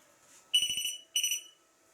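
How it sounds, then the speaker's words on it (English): A door handle alarm gives two short, sharp electronic chirps about half a second apart, bright and piercing, heard close up in an otherwise quiet room. "got a door handle alarm here,"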